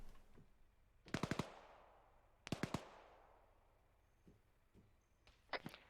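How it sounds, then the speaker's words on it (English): Bursts of rifle fire from a squad training, shooting at a distant tree line roughly 500 yards out: three sharp volleys of rapid shots, each ringing out with a long echo, followed by fainter single reports. "So Bravo is shooting towards that tree line that is beyond the trees, what we can't see."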